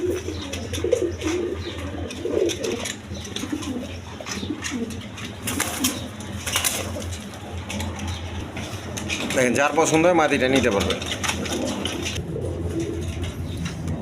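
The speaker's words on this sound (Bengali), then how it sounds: "এখানে এক পেয়ার টেরি কবুতর আছে, পাকিস্তানি টেরি কবুতর" Pakistani Teddy pigeons coo softly in a coop, low throaty calls with occasional wing flutters, mixed with steady background noise while someone talks over them.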